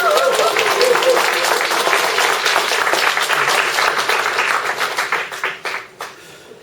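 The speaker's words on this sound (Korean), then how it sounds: "제가 큰 박수로 모시겠습니다." Dense applause from a lecture audience fills the room, steady at first and then thinning into scattered claps before fading out.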